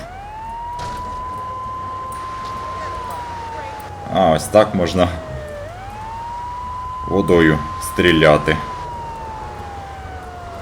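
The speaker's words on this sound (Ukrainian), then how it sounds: "Проблискові мачки та сирену я увімкнув." A fire truck siren in the video game GTA 3 wails, rising and falling steadily throughout as someone speaks in short bursts over it, the electronic tone clear and continuous.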